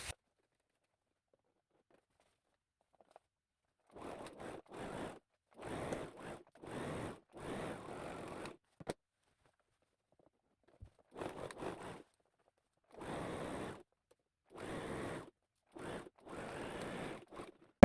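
A sewing machine stitches the crotch seam of a pair of shorts in short bursts of rapid whirring, separated by pauses, close and quiet with no talk.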